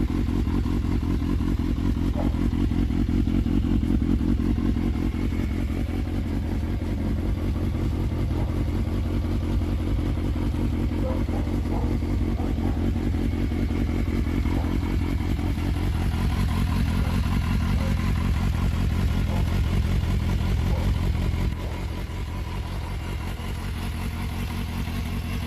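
A Suzuki GSF 400 Bandit classic motorcycle engine runs steadily, a close, even mechanical rumble with a fast regular pulse that holds for most of the stretch before the level dips slightly near the end.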